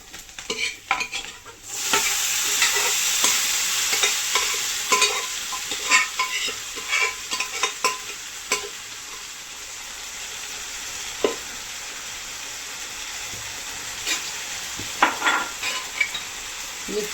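Safflower leaf greens frying and being stirred in a hot spiced oil tempering, a steady loud sizzle with scraping spoon strokes and clinks against the pan, no talking.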